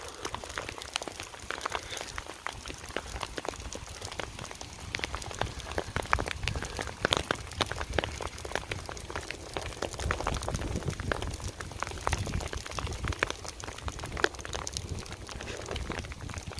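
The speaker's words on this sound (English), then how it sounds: "That hail's back." Hail from a spring storm on Dunstable Downs patters steadily and densely on surfaces throughout, a continuous close rattle of many small impacts with no talking.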